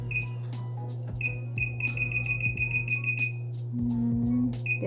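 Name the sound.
timer being set to 15 minutes, beeping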